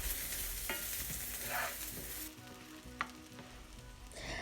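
Onions with tamarind, ginger and garlic sautéing in a pan give a quiet, steady sizzle broken by soft stirring scrapes and a single sharp utensil tap.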